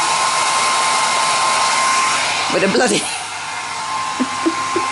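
A hair dryer blows with a constant high whooshing hum, joined briefly by a few spoken words and some rustling partway through.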